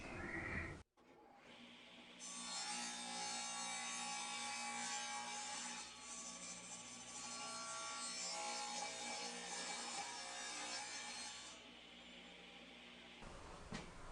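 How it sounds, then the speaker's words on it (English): A table saw spins up and trims excess off wooden rails for a DIY nativity backdrop, a steady whining cut held for about ten seconds before the blade winds down, close and continuous. "I'm going to put this on the table saw and just cut this excess off"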